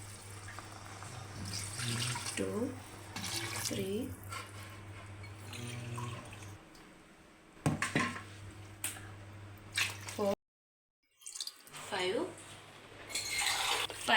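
Water splashes into a pot in several separate pours, measured glass by glass for a mutton biryani. A voice counts aloud between the pours, and the sound ends with a brief silent gap and more splashing.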